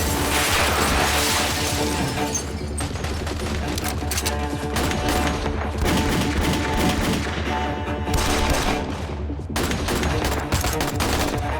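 Heavy gunfire sprays bullets across a tree nursery in a TV drama scene, dense continuous bursts of automatic fire and crashing impacts filling the whole stretch, loud and close.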